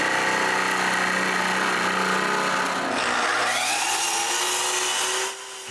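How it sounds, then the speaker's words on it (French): Jigsaw roughly cutting through a wooden sheet, a loud continuous buzzing motor whine that shifts pitch midway as the cut progresses, then drops off near the end. "je finis la coupe grossièrement avec la scie sauteuse"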